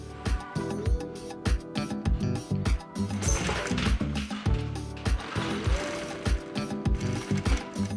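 An industrial sewing machine in a leather workshop stitches cardboard and nylon pattern pieces, its rapid mechanical clatter loud and close, with rhythmic ticking bursts and short pauses between runs.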